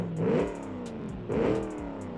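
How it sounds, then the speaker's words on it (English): A rear-wheel-drive stock car engine in the game Automation revs twice in strong, close bursts, with a steady idle hum between them and no talking. "And listen to that engine."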